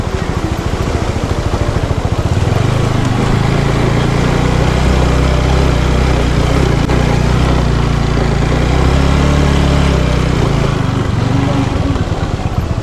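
A motorbike engine runs on a slippery, muddy mountain road toward Ranabang in Myagdi, its loud, steady idle droning close by for the whole stretch.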